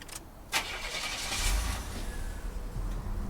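A 1987 Buick Grand National's engine cranks and catches with a short burst, then settles into a low, steady idle rumble heard at a moderate distance.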